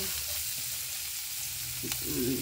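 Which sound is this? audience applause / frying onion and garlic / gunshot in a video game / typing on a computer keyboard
frying onion and garlic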